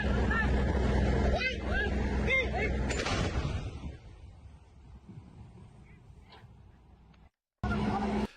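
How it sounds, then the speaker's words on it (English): Thai army artillery firing across the border, heard as loud booming blasts and rumble in the first few seconds, with crowd-like babble and noise, then fading to quieter background before a sudden loud burst at the end. "Here we've got the Thai army launching artillery across the border."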